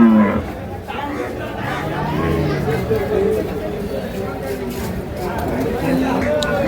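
A Holstein Friesian dairy cow at a crowded cattle market, with low lowing tones rising out of a steady wash of nearby talk and market chatter.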